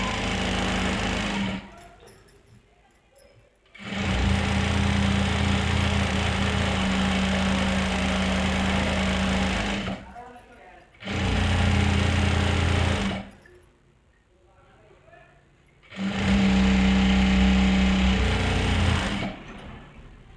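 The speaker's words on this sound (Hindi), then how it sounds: "एक पैर का गैप देखते हुए सिलाई लगा लेंगे।" A sewing machine stitches lehenga panels in three long, steady mechanical runs, close and fairly loud, separated by brief quiet pauses.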